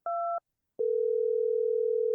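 A call's ringback tone plays through a phone: a short two-tone beep, a brief silence, then one long steady tone that keeps going, clean and alone.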